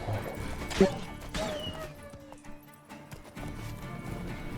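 A horse in a video game gives hoof clip-clops and a short whinny, rising at first and then easing into quieter game noise, with a faint voice in the background.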